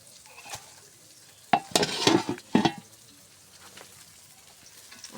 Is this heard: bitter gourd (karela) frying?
yes